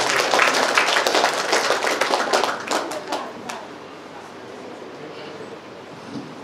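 Loud applause from a crowd at a 2017 reception ceremony. Dense clapping fills the first few seconds, then thins and fades to a quiet room murmur.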